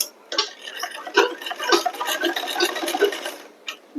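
A sewing machine stitches along the edge of a blouse belt in a rapid, even run of close ticking clicks that starts after a brief pause and stops just before the end, with no talk.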